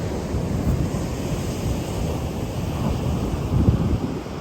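Steady ocean surf rolls onto a shore along California's redwood coast near Trinidad, a dense continuous wash with a slightly stronger surge near the end, buffeted by wind noise and no voices.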